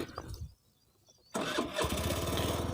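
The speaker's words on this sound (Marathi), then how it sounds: "आता गाडी निघती का नाही काय माहिती बघू आपण तरी" A Suzuki Access 125 scooter engine cranks and catches after a short quiet pause, then settles into a close, steady idle that continues to the end.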